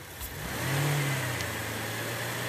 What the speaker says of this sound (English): I'm going to raise the engine RPMs a bit.